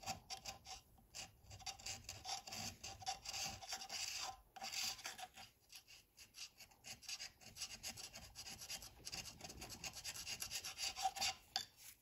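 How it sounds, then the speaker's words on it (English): A three-sided bearing scraper rasps steadily across old gasket material on a metal surface of an old bulldozer, close, continuous scratchy strokes with slight variations in pressure. "Trying to get this surface free of gasket material. This tool here, a three-sided knife or a bearing scraper"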